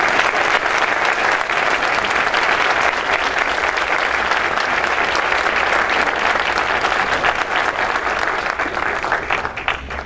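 Audience at an environmental cooperation award ceremony breaks into loud, sustained applause, a dense wash of clapping that holds steady for ten seconds before easing slightly at the end.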